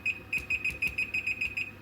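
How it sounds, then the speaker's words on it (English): A kitchen oven timer being set gives a run of short, clear electronic beeps in a steady, evenly spaced rhythm, close and moderately loud, with no voices over it. "Timer on again, 12 to 15 minutes"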